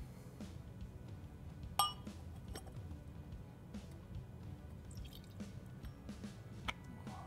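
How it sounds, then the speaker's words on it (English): A dram of Glenfarclas 21 single malt whisky is poured, with soft trickling, a few drips and a glassy clink or two, faint and close in a quiet room. "Let's pour a dram now of the Glenfarclas 21 and begin with the nosing."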